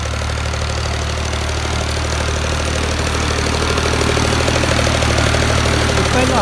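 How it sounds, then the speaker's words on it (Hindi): An Al-Ghazi Model 12 tractor engine runs loud and close, a steady rumbling diesel chug with an even throb and no talking. "अपने चाचे वाला ट्रैक्टर जनाब अलगाजी के मॉडल 12"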